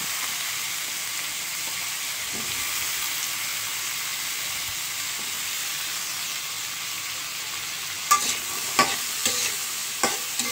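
Prawns with cumin seeds in oil in a kadai, a steady close hiss of frying that carries on evenly, then a few sharp stirring clinks and scrapes toward the end.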